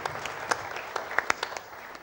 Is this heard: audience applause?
yes